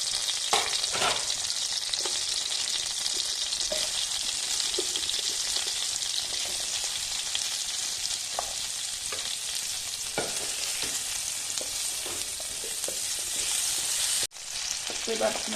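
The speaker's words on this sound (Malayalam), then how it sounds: "ഇനി ബാക്കിയുള്ള പനീറിനെ കൂടെ നമുക്ക് ഇതുപോലെ ഒന്ന് ഫ്രൈ ആക്കി എടുക്കാം" Paneer cubes fry steadily in a hot pan, a dense continuous sizzle with occasional soft stirring clicks, close and alone without talk; it cuts out briefly near the end before resuming.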